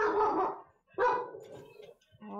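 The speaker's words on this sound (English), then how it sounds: "So sorry if you guys heard that barking." A dog barks inside a house, a few loud, close barks in quick succession, with a short voice exclamation among them.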